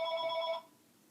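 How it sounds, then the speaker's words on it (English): An indoor telephone rings with a bright electronic trill for about half a second, then cuts off and leaves quiet room tone during a paper-flower craft session. "I'm just going to ignore that phone."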